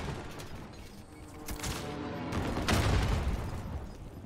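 Rapid bursts of gunfire in a Warzone match on Fortune's Keep, loud and close, with dense overlapping shots that swell toward the end.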